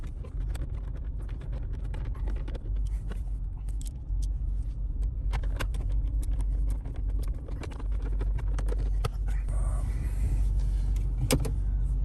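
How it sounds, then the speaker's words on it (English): Ram 1500 power rear window motor running as the window opens and then closes, a low steady electric hum inside the truck cab with small clicks and rattles along the way. "Make sure the rear window opens and closes again, which it does"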